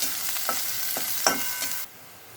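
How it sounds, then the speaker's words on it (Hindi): Chopped onion roasts over a medium flame, with a bright sizzle broken by several scraping stirs of a spoon that stop abruptly near the end, leaving near silence; no voices. "अब मीडियम फ्लेम पर इसको 2-3 मिनट भून लेंगे।"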